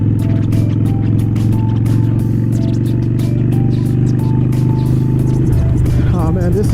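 Motorcycle ridden in first gear through a residential complex in South Florida, a loud, close engine drone with a rattling camera mount, the revs shifting near the end.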